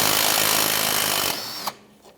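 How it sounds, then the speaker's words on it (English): A bolt is removed with a 17mm socket and wrench while replacing a rear CV axle on a 2014-2018 Subaru Forester 2.5L H4, heard as a loud buzzing tool whir that stops abruptly, followed by a couple of faint knocks. "now we are going to take out this bolt. Use a 17mm socket and a 17mm wrench."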